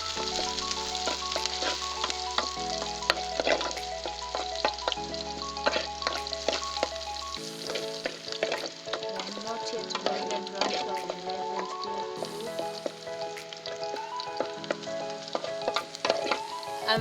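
Vegetables fry in a pan over a firewood cooking fire in a Kenyan village kitchen, giving a steady, close sizzle and crackle that runs throughout, with faint tonal background sounds layered underneath.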